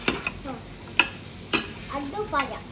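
A spoon stirs masala with goat trotters in a sizzling pan, scraping the metal in a few sharp strikes over steady frying, with soft talk in the background.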